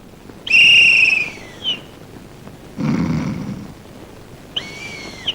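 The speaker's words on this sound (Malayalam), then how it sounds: "എന്റെ വിസിലിന്റെ സൗണ്ട് അല്ലേ കേട്ടത്?" Two sharp, shrill whistle blasts, close and loud, separated by a brief rustling noise.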